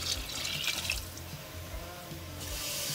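Tap water runs steadily from a kitchen faucet, a continuous rushing splash that swells and eases slightly as it fills, heard alone and close.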